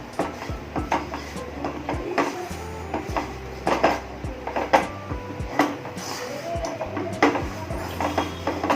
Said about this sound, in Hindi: देख सकते हैं आप इस तरीके से हम लोग इसको मिक्स कर लेंगे।